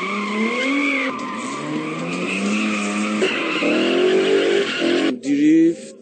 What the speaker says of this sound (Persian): دریفت یه نوع شیوه رانندگی توی پیچه